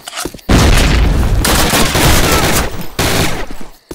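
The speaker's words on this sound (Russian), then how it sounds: "Укрытие! Ложись, граната!" In a Call of Duty battle set in France and Germany, a grenade explodes amid dense gunfire, a loud sustained roar of booms and rapid shots with a brief drop in the middle.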